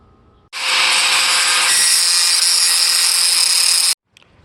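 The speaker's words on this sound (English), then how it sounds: "I need to take that paver and cut it off, maybe a hole or a rectangle piece, so the pipe can come out" A power saw cuts a paver for an outdoor kitchen: a loud, steady, harsh grinding whine starts abruptly, holds unbroken for about three and a half seconds, then cuts off, close and alone.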